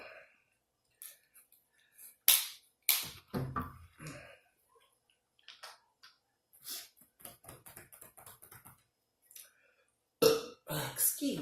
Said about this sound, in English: Let's see if I burp myself or something.